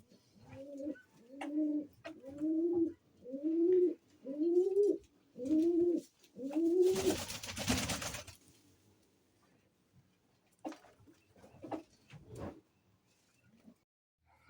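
An agitated pigeon with wings held low gives seven rising coos in a steady rhythmic series, followed by a burst of noise and some faint scattered chirps.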